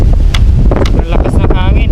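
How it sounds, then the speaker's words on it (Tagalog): Strong wind buffeting a microphone outdoors at a moto camping site in Malico, a steady loud rumble and rush throughout, with brief voices mixed in. "Ang lakas ng hangin."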